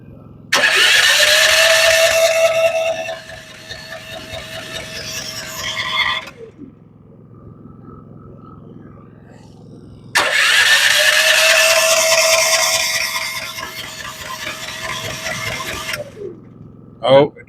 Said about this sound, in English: Oh, it tried to start.